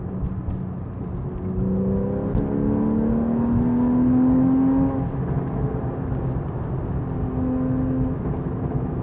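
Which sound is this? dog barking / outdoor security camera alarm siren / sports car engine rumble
sports car engine rumble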